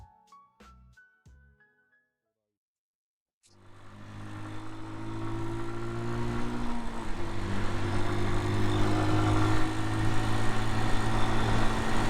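Small learner motorcycle starting after a few clicks and brief silence, then its engine revving and droning steadily louder as it rides off, pitch shifting through gear changes.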